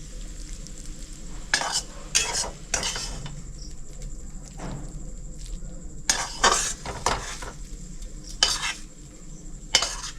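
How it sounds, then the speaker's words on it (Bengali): Stir-fried water spinach (kolmi shak) is scraped from the pan onto a plate after the gas is turned off: a series of close metal scrapes and clinks in short bursts over a soft background hum. "কলমি শাকটা আমি একটা প্লেটে তুলে নিচ্ছি।"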